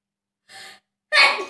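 A person in a repeated sneezing challenge takes a sharp gasping inhale and then lets out one loud, close, explosive sneeze after a brief pause.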